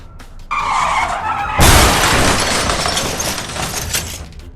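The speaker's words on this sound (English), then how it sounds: "A tanker had a technical malfunction, lost control, and crashed into a garbage truck, flipping both vehicles on the highway" A tanker truck with a technical malfunction slams into a garbage truck on a highway, both vehicles flipping: a sudden loud crash bursts in after a rising engine and tire roar, followed by a sustained scraping, grinding rumble.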